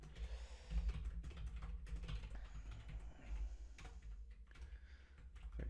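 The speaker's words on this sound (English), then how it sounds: "I can type." Quiet, steady typing on a computer keyboard with fast irregular key taps and a low room hum underneath, no talking.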